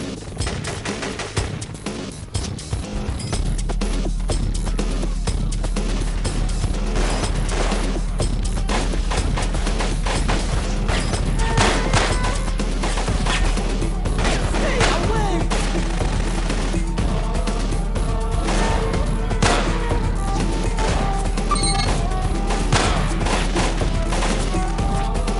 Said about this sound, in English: Taking fire! Go for cover!